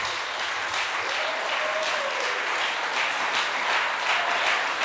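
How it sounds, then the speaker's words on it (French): A large church congregation applauds young people in a continuous, dense roar of clapping, steady and fairly loud throughout. "Put your hands together for those young people again."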